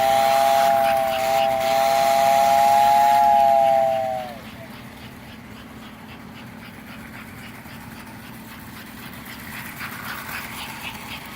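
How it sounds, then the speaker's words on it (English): An American Flyer Christmas toy train whistle blows a steady, bright, slightly wavering tone for about four seconds, then stops while the low rumbling run of the model train continues underneath. "And the whistle is blown."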